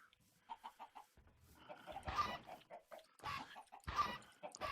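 Minecraft chickens cluck in quick, repeated bursts, with a few louder squawks and rustly noise mixed in, fairly close.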